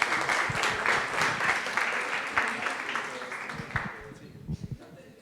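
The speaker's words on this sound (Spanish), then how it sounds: "Yo sí quisiera un aplauso para ustedes mismos" A room of attendees at a medical talk on HIV viral load monitoring gives a dense round of applause that thins out into scattered claps over a few seconds.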